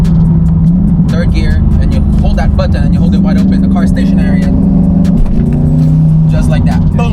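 A stationary C8 Corvette engine growls at wide-open throttle with anti-lag engaged, a loud, deep, steady drone with shifting pitch running under continuous talking.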